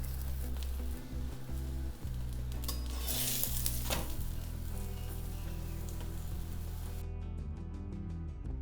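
Aloo paratha frying on a hot pan in a cloud-kitchen setting, giving a steady close sizzle with light stirring and scraping noises. No one speaks, and the sound runs alone throughout.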